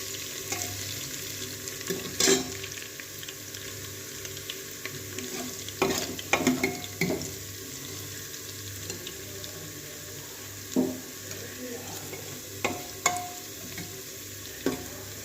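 Garlic and ginger frying in hot oil for an aloo matar curry, a steady low sizzle with intermittent stirring clinks and scrapes of a utensil against the pan, close by, with no talking.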